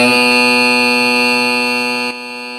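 A loud, harsh electronic buzzer blares steadily for about two seconds, then cuts to a lower hum.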